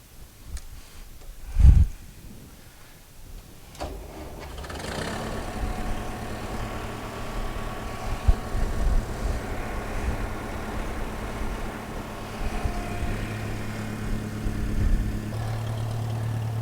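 An engine cranks and fires up, then settles into a steady, fairly loud idle that runs on alone as it warms.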